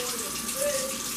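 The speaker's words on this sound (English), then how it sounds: "Turn that water down a little bit" Faint running tap water in a sink while a postwar aluminum Lionel/MTH model passenger car is washed with soap, a soft steady hiss under low background sound.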